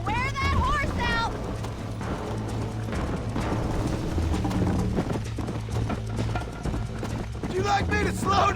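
Hooves drum steadily as a horse gallops in Red Dead Redemption, with whinnies at the start and end, and game characters talk throughout.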